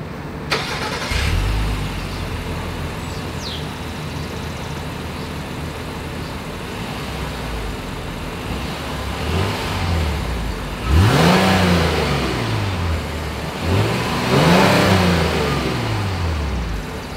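2022 Honda Passport engine cranks and fires, settling into a low idle, then gives three quick exhaust revs near the end, each swelling up in pitch and dropping back, recorded close behind the vehicle with no talking.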